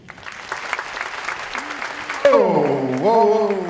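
An audience at a panel talk applauds to welcome the second speaker; scattered clapping builds briefly before a voice takes over, speaking over the fading applause.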